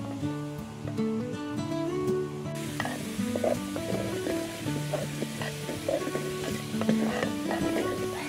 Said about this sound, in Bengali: দুটো মতন রসুন কুচি আর অল্প আদা কুচি দিয়ে একটু নেড়ে নেব।